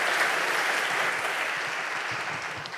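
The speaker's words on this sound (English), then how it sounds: "Give him an applause." Audience applause at an industrial carbon management forum session, a steady even patter of many hands clapping throughout, moderately loud and fading slightly toward the end.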